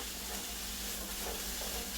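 Vegetables stir-frying in a hot pan give off a steady, close, dense sizzle and hiss throughout, with no pauses.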